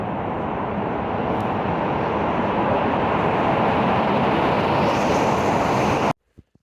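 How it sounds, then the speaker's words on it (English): Strong wind roars steadily against the microphone outdoors in Iceland, a loud, continuous buffeting rush that cuts off abruptly near the end, leaving brief quiet with a couple of small knocks. "Super windy."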